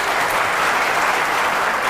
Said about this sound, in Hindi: एक दफ़ा तालियां बजा दें